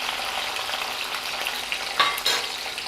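Garlic frying in oil in a pan for a Marwari garlic and red chili chutney: a steady, close hiss of sizzling with small pops and crackles, and no voices.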